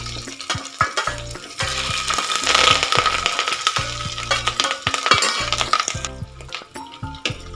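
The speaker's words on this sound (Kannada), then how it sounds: "ನೋಡಿ ಇದೆಲ್ಲ ಒಂದ್ಸಲ ನೀಟಾಗಿ ಫ್ರೈ ಆಗಲಿ." Ginger, garlic and green chillies frying in a tempering for ghee khara pongal, a close sizzle broken by repeated stirring scrapes and clinks of a spoon against the pan.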